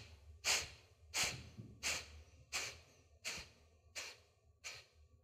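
Seven short, sharp sniffs drawn in through the nose during a yoga breathing exercise, evenly spaced about once every 0.7 seconds, close and quiet with no talking.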